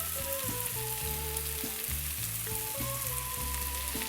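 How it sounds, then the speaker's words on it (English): Onions frying in a pan with mustard seeds, cumin, a bay leaf, ginger and garlic, a continuous close sizzle throughout, with music playing underneath. "we're going to let this cook until the onions are transparent"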